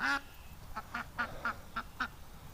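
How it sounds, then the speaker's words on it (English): A duck quacks several times in short, evenly spaced calls, close by, against faint outdoor background noise. "I heard a little quacking"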